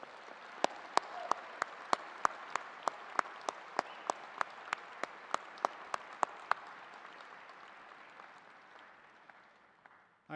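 A large crowd applauds at a university commencement ceremony, a dense wash of clapping with a few sharp louder claps standing out, gradually thinning and fading toward the end.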